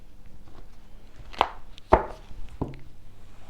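A tarot deck is cut by hand at a table: three sharp, dry card taps spaced about half a second apart over a faint, quiet room background.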